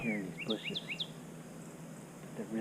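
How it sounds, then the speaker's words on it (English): A few bright, sweeping whistled notes from a male northern cardinal, quick and repeated, heard at moderate distance with faint background hum. "you can hear the male cardinal in this video"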